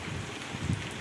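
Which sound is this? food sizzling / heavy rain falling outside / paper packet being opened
heavy rain falling outside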